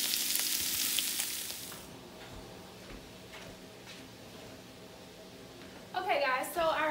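Sausage, peppers and onions sizzle in a frying pan, a steady hiss through the first two seconds that then quiets to a low simmer, with a brief louder burst of sizzling near the end.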